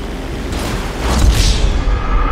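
An airplane in the video game GTA 5 swells into a loud, rushing low roar, with a whooshing pass building midway through the short stretch.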